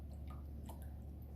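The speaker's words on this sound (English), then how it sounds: "I'm going to wash my brush." A watercolor brush swishes and taps in a water cup with faint, soft, wet squishing and small drips, quiet and close over low background hum, no voices.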